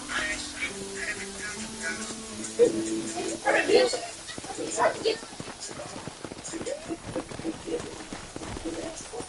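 Horse hooves clip-clop in the Western video game Red Dead, a quick, irregular clatter of hoofbeats in the middle distance mixed with ambient game sounds, while voices talk over it.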